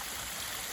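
Water rushes down a rocky creek in a steady, broad outdoor roar, continuous and fairly loud with no voices.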